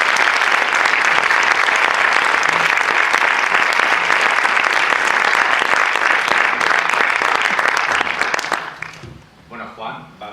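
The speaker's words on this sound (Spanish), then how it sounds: "Ha sido un aplauso para ellos." A round-table audience breaks into loud, sustained applause that fills the room evenly for several seconds, then tapers off quickly near the end as a voice begins speaking.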